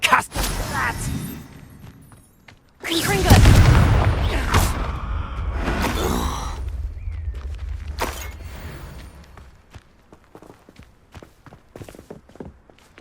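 A Confringo blasting spell in Hogwarts Legacy erupts in one loud, close boom with shattering debris, then a long rumbling tail fades out amid scattered footsteps and clatter.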